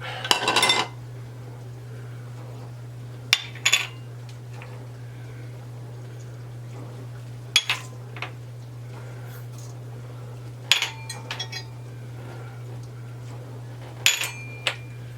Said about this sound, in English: we're going to start out with adding all of our dry ingredients